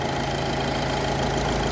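A school van engine idling in a repair shop after a hose was replaced, a loud, steady low rumble close by with no talk.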